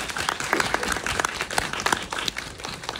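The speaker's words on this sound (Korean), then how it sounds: "박수 다시 한번 부탁드리겠습니다." An audience at a film festival screening Q&A applauds the directors and actors, with a steady patter of clapping from a seated crowd that continues for a few seconds.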